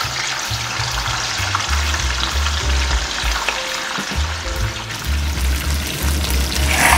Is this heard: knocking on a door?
no